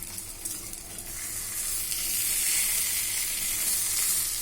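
Fresh curry leaves dropped into a hot egg pepper fry, a steady, bright hiss of sizzling oil that swells slightly and holds, close up with no voices.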